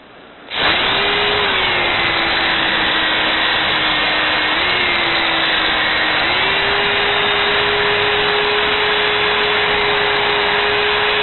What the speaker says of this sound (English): You can wet sand with the drill and the pads